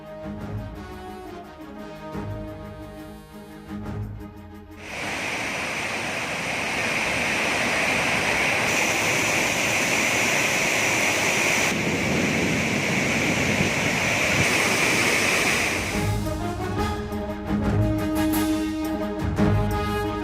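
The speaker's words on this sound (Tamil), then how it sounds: "குமரி மாவட்டத்தில் முக்கிய சுற்றுலா மையமான திருப்பரப்பு அருவியில் வெள்ளப்பெருக்கு." Thirparappu waterfall in flood in Kanyakumari district: a loud, continuous roar of rushing water that holds steady for most of the clip, with other audio before and after it.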